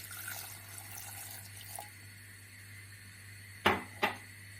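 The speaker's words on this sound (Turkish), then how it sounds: "suyumuzu ilave edelim." Water poured into a pot of chopped figs while making a fig dessert, heard as soft splashing that gives way to two sharp, close pours near the end.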